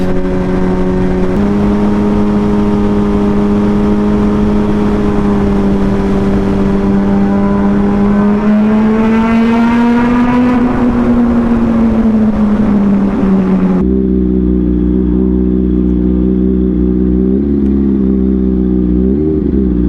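A loud car engine revs and climbs steadily in pitch, then drops abruptly as it shifts gear and pulls again, close and continuous.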